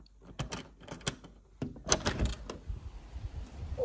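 A few sharp metallic clicks and clunks of a door lock being worked on an old Irish cottage door, close by, followed by a quieter rattle.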